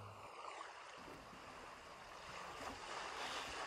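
Waves wash steadily onto a beach, a continuous broad rushing surf with some wind, fairly soft and with no voices.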